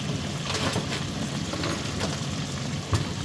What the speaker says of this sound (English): You are watching that fry away.